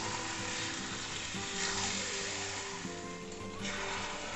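Mutton fries with spices in hot oil for kosha mangsho, a dense continuous sizzle and hiss that swells and fades slightly as the meat is turned, steady and fairly close without any voices.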